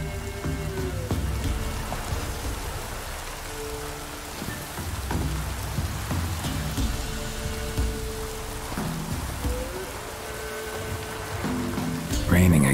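Steady rain patters on surfaces in The Witcher 3: Wild Hunt, a constant hiss with low rumbles and thuds, while a voice talks over it.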